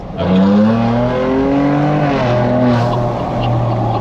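A Ford Ranger Raptor truck drives along a road near Sydney, its engine a steady low drone with rising and falling tones as it accelerates and shifts, heard from close by.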